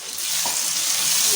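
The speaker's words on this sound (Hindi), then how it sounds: "प्याज हो चुका है तो इसमें सबसे पहले ये डालेंगे टमाटर" Tomatoes hitting a pan of browned onions, a loud bright sizzle that swells quickly and holds steady, with a brief stirring scrape near the start.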